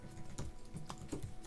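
Keystrokes on a computer keyboard while setting up a browser source in OBS Studio, a few separate clicks spread over a short moment with steady background hum and no talk.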